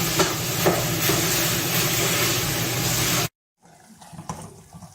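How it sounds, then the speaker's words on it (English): Beef sizzles in a hot pan with a loud, steady hiss and crackle that cuts off abruptly, then returns as quieter sputtering. "the beef starting to sizzle"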